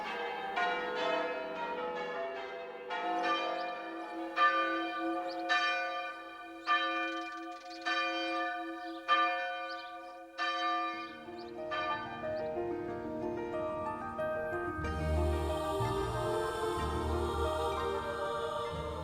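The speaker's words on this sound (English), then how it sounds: "church bells rang out across the land to celebrate victory and to usher in a new age of optimism" Church bells ring out in celebration, a series of resonant, evenly spaced strikes with long ringing tails, fairly distant, later joined by a broader low rumble and a wash of overlapping tones.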